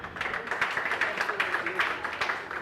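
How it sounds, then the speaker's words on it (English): Audience applause at a school football championship ceremony, where an armband handover is taking place. Dense, steady clapping fills the room from start to end, moderately loud, with a faint voice underneath. "Let's give them a round of applause"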